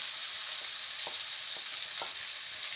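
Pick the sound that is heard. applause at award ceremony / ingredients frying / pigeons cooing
ingredients frying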